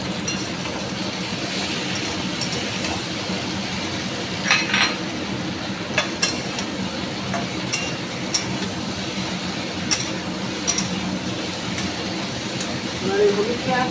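Vegetables and spices being stirred in a frying pan for a Bengali mixed vegetable dish, with a steady hiss and sparse metallic clinks of a utensil against the pan every couple of seconds.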